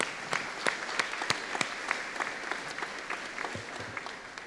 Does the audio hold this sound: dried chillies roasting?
no